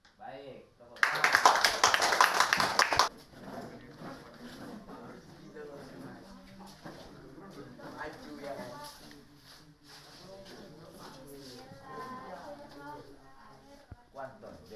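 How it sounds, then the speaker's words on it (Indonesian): A classroom group of students claps together in a loud, dense burst lasting about two seconds, followed by a teacher talking in a quiet room. "Baik, tepuk tangan"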